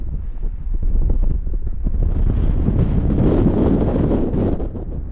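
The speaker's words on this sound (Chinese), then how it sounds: "风声大作" Strong wind gusting steadily on open ground near Kharkhorin in Mongolia, just before a storm with lightning, a dense continuous roar that swells toward the middle and eases slightly at the end, with no talk.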